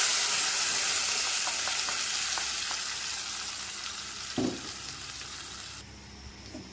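Tempering of curry leaves and dried red chillies being stirred in a pan for green onion chutney, a steady close sizzle with faint scraping touches and a brief clatter near the end.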